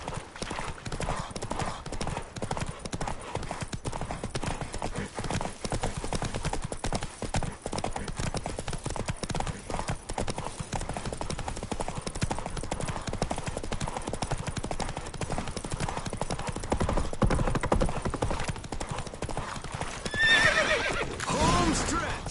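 Roach the horse from The Witcher 3 gallops with steady rapid clip-clop hoofbeats throughout, a whinny breaking through near the end over constant game ambience.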